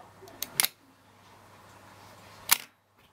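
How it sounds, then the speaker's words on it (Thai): A Pentax ME film camera set to B fires its shutter: a sharp mechanical click as it opens, a quiet pause of about two seconds, then another crisp snap as it closes, close and alone. "ผมจะตั้งไว้ที่ชัตเตอร์ B ก่อน นี่นะครับ กดนะครับ"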